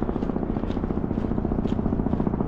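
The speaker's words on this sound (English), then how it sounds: "Looks like we have the traffic helicopter." A traffic news helicopter flies overhead during a winter city walk in Calgary, its rotor chopping in a fast, steady pulse at moderate distance, loud and continuous.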